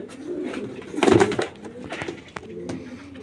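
Black racer pigeons coo in low, soft bursts, loudest in a swelling cluster near the middle, with quieter calls scattered before and after against a faint background murmur.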